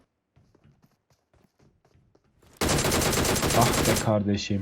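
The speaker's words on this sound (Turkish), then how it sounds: "Aha o silah sesi." Gunfire in the mobile battle-royale game PUBG Mobile, a sudden loud burst of rapid automatic shots after quiet footsteps, cutting off abruptly; someone speaks briefly during the shooting.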